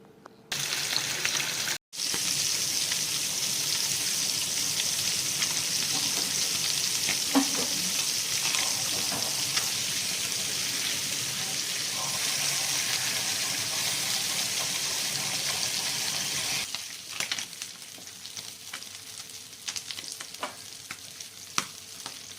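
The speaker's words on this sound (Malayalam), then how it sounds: "ഫസ്റ്റ് മീൻ പൊരിക്കാനാണ് കേട്ടോ നിൽക്കുന്നത്" Fish fries in a pan with a loud, steady hiss and crackle that holds for most of the stretch, with brief utensil knocks, then thins to a quieter sputter near the end.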